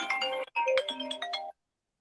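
A mobile phone ringtone plays a bright, tuneful electronic melody for about a second and a half, with a brief break near the start, then cuts off into silence.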